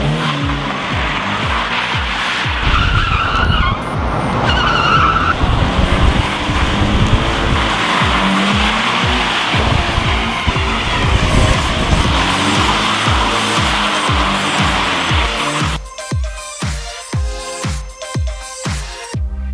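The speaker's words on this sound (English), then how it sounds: "Drifting with steel wool, what could go wrong?" A car drifts with a steel wool pole rigged to its rear, engine roaring loud and continuous while tires squeal and skid, ending in a few choppy bursts of revving.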